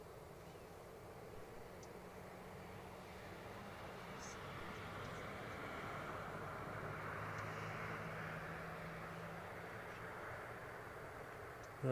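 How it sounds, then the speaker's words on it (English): A KLM airliner pushes back and turns on the apron at Newcastle International Airport in sunshine, its engines giving a steady, moderately distant roar and whine that builds slightly midway and holds without pause. "KLM pushing and turning"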